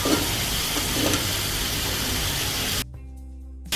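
Sweet potato and drumstick pieces go into a spice mix that is already frying in the pan, giving a loud, even sizzle and hiss. The sound cuts to near silence for the last second.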